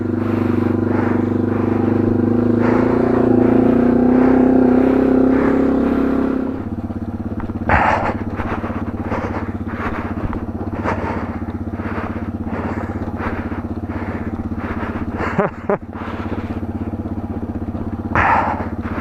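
A Yamaha TW200 motorcycle rides a forest trail in Capital Forest, its single-cylinder engine droning and revving steadily up close, then settling to a lower idle-like chug punctuated by clacks and clatters from the bike and terrain.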